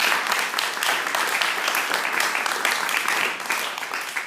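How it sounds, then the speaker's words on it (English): A crowd at a public talk on stop and frisk gives a steady round of applause, dense and even from start to finish. "I just want to give a round of applause to this young brother here"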